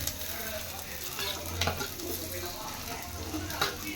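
Small onions sauté in hot oil for a mutton curry, giving a steady close-up sizzle with occasional stirring scrapes throughout.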